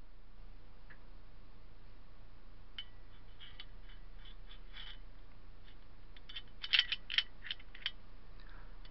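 Metal clicks and ratcheting snaps come from an MP-153 hunting shotgun as its bolt and piston mechanism is fitted to the receiver. A few faint ticks are followed by a sharper cluster of close clicks near the end, over steady low hum.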